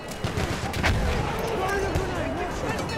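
Continuous battlefield din from Battlefield 1, with distant artillery and gunfire booms layered under shouted voice lines and steady combat noise at a loud, even level throughout.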